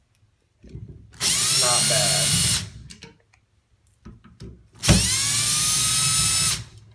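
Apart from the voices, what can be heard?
power driver removing Phillips head screws from valve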